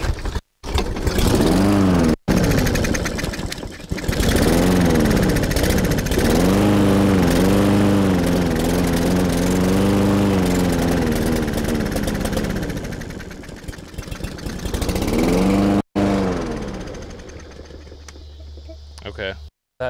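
A pull-started push lawn mower with a gummed-up carburetor runs loudly and close by, its steady engine note surging and dipping, then cutting out near the end after a brief restart.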